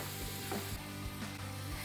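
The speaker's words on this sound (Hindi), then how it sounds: "ये देखिए व्यूअर्स, मैं इसे तड़का लगा रही हूँ।" Hot tadka tempering poured onto beef nihari, crackling and sizzling steadily at close range with no one talking.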